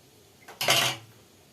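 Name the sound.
stirring homemade yogurt with a ladle and pouring into cups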